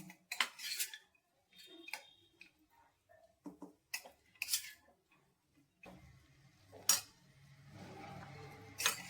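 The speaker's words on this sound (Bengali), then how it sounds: "ধনেপাতাগুলো দিয়ে আমি আরেকটু নেড়ে দিচ্ছি, আর গ্যাস অন করে কমিয়ে দিয়েছি শুধু গরম করার জন্য।" Chopped coriander stirred into poha in a pan over low gas, a spoon scraping and clinking against the metal in scattered short bursts, close and fairly quiet, with a steadier rustling stir near the end.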